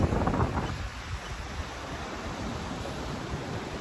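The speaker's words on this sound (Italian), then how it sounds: "il rumore delle onde" Ocean waves wash onto an empty Atlantic beach in a steady, broad rush of surf, with heavy wind buffeting the microphone, and no voices present.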